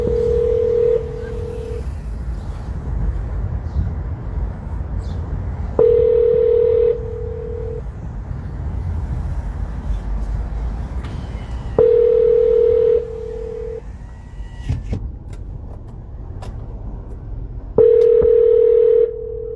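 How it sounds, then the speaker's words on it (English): Telephone call ringing out, with a repeating ringback tone sounding in evenly spaced bursts every few seconds over a low rumbling background hum, loud and close. "That was me calling, Marietta."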